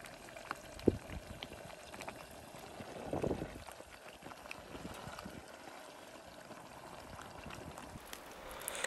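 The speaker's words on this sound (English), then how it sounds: "pouring the palm oil onto the Mpotompoto" Palm oil is poured onto a pot of cocoyam pottage (Mpotompoto), a soft bubbling, simmering sound with a brief louder pour and faint clinks, fairly quiet and close.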